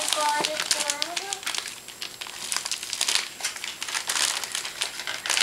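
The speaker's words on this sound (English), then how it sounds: "Open card of Grandma." Paper greeting card from Grandma crinkling and crumpling as a child tugs it open, dense rustling throughout with a voice chiming in near the start.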